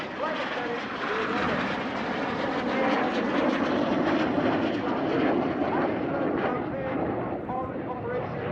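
Red Arrows display jets flying at RAF Cosford, a loud sustained roar of jet engines rolling overhead at an air show, with a commentator's voice running underneath.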